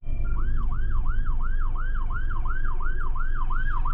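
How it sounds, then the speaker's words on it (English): Police car and ambulance sirens wail loudly as they pass, a steady rising-and-falling cycle repeating about twice a second over continuous road rumble, with no one speaking. "There's an ambulance and several police that have went by"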